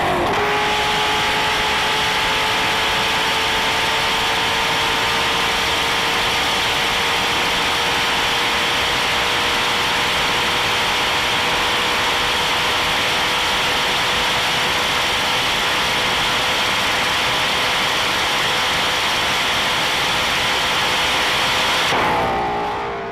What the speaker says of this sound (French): la Venom GT est capable d'atteindre des vitesses de pointe exceptionnelles